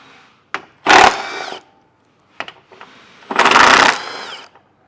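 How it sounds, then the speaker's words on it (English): A 10mm socket, likely on a power driver, runs out bolts from the lower shroud of a 2019 Ford Ranger: two loud bursts of whirring spinning with short clicks between, close up and with no talk. "we're going to have 3 10mm bolts here on this bottom shroud that we'll have to remove using a 10mm socket"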